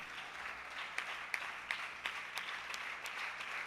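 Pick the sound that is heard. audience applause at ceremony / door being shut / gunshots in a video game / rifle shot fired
audience applause at ceremony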